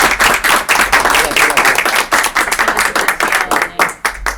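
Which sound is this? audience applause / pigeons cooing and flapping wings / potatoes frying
audience applause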